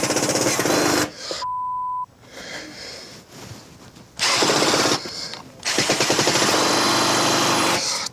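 A handyman struggles to drive screws into pilot holes drilled far too narrow, producing harsh bursts of loud power-tool whirring that stop and restart in several separate attempts, with a quieter pause and a brief tone between them.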